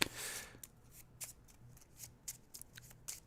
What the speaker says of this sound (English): lovely shuffling